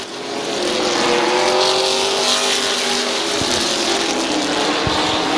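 Pack of race trucks running laps at Midvale Speedway: loud, sustained engine roar with shifting pitch as trucks sweep past, plus a couple of sharp knocks near the end.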